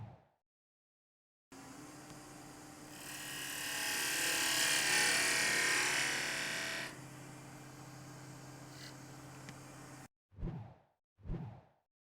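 A blade bevel with a concave grind sliding straight across a sharpening surface, a steady rasping hiss that swells in the middle and then eases. Two short, separate scrapes follow after a pause.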